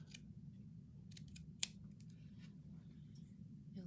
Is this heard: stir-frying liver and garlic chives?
no